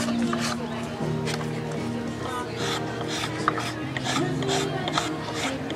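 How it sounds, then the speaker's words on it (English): A blade planes down a curved piece of hard, dense mesquite wood, giving a steady close rasping scrape that runs continuously under a voice. "being the blade being exterior lets me follow the curve of the wood and plane it down, just like that"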